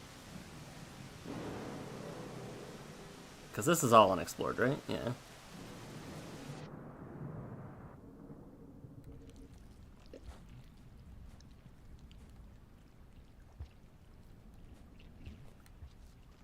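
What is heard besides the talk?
thunder and rain in the video game Rain World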